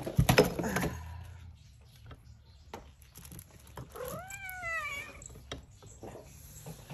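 A cat meows near a lamp, one drawn-out rising-and-falling meow in the middle after some rustling and handling noises at the start, fairly close but soft, with no talk.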